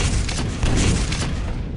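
Rockets explode in a Quake 3 team deathmatch, a dense, loud burst of booming blasts and crackling noise packed into a moment of heavy combat.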